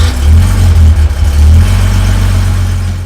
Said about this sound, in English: a nice 2-in, 2-out muffler for a raw note